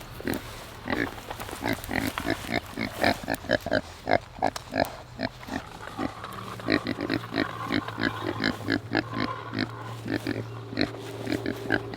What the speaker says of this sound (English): These pigs do root more than our Cooney pigs, but not as much as a regular feeder pig.